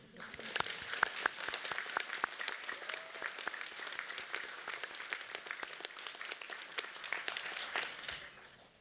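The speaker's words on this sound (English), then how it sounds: "My notes now call for enthusiastic applause from the audience." An audience at a university engineering and IT graduation ceremony claps enthusiastically, a sustained, even round of applause with distinct nearby hand claps standing out over the wider hall.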